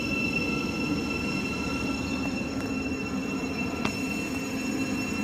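A steady low rumble of a passenger train passing through Elstree & Borehamwood station on the Midland Main Line, with faint high squealing tones and occasional clicks, continuous throughout with no talking.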